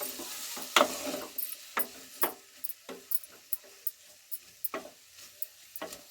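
Ridge gourd greens tossed and stir-fried in a pan, giving a soft sizzle under repeated sharp clinks and scrapes of a spatula against the pan, fairly close and in an irregular rhythm, with no talking.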